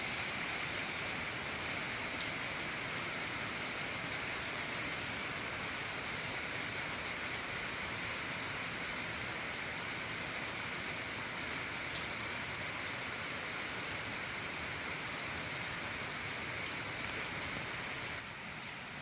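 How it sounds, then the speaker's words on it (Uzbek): Steady, dense rain falls at night, a continuous close hiss of drops on surfaces that holds an even level throughout with no voices. "chiqishimdan sabab yomg'ir tovushini sizlarga eshittirish"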